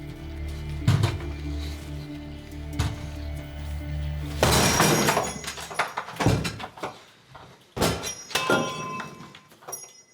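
Police force open a door to reach a critically ill woman, a series of heavy thuds and cracking impacts, with a loud burst of breaking and clattering midway, then further bangs and scrapes nearby.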